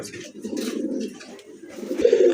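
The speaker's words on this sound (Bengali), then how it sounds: "আরেক জোড়া কবুতর দেখতে পাচ্ছেন মাশাল্লাহ খুবই সুন্দর কবুতর" Pigeons coo nearby in low, throaty, repeated calls that swell and fade over a couple of seconds.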